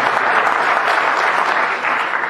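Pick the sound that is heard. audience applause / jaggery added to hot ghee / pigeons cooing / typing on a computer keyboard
audience applause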